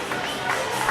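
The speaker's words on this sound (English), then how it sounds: "Still a fairly large crowd on hand." Fans fill a gym at a 2020 high school volleyball match between the Lady Dutch and Pella Christian, making a steady, fairly large crowd murmur that swells slightly at the very end.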